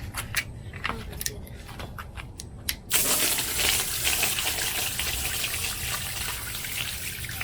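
Ginkgo seeds soaked in water are dumped out of a container, starting with a few small clicks and rattles, then a sudden loud gushing pour that splashes on continuously.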